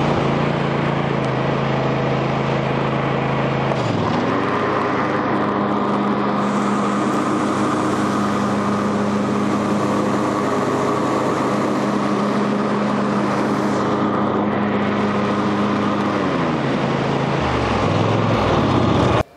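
Cub Cadet Ultima ZT1 42 zero-turn mower running outdoors, a loud steady engine drone that shifts pitch as it revs up after a few seconds, holds, then drops back near the end.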